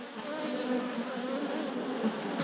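A hornet buzzing right beside the ear near beehives, a steady close drone that stays loud and even throughout.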